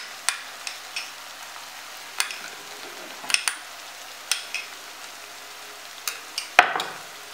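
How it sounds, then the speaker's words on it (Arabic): Tomato paste frying with onion and garlic in a pan, a soft continuous sizzle under repeated spoon stirs and clinks against the pan, one sharper knock near the end. "نزيد نقليها مع البصل والثوم هذا مليح"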